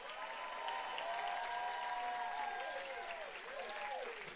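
A church congregation claps and cheers together during a Sunday service, steady sustained applause at moderate distance with sliding, singing voices rising over it.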